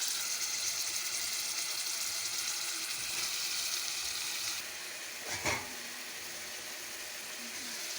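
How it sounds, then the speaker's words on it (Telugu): Green peas fry with ginger garlic paste in a pan for a brinjal and pea curry, a steady soft sizzle that briefly clatters as the pan is stirred. "కడిగి పెట్టుకున్న పచ్చి బఠానీ అది వేపేయండి బాగానే."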